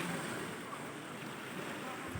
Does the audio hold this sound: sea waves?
yes